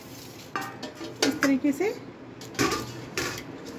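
Boiled potatoes are rubbed across a kitchen grater in short, rhythmic scraping strokes, close and moderately loud, while someone speaks briefly between strokes.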